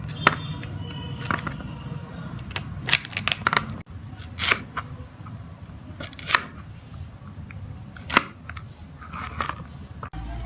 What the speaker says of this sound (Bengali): ফুলকপিটিকে কেটে নেব।